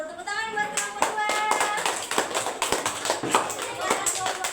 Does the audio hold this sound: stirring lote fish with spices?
no